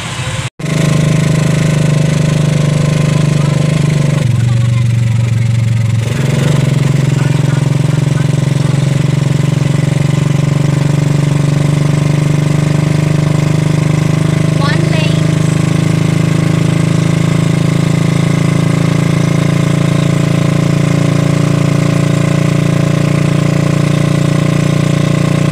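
A motorcycle engine idles loudly and close by in a steady, droning putter that runs throughout, with a brief shift in tone early on.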